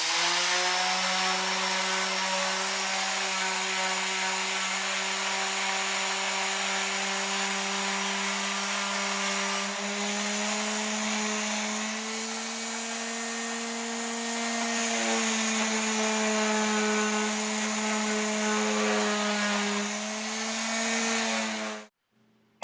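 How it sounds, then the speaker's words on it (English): Electric palm sander running on wood with 80 grit paper, a loud, steady close-up whirring drone that holds for about twenty seconds before cutting off abruptly, with no talking. "I used my electric palm sander with some 80 grit paper to get the surface of the wood smooth"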